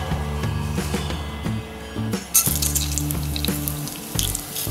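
Mustard seeds and chana dal fry in hot sesame oil for a sambar; a close, crackling sizzle bursts into sharper pops and spatters partway through.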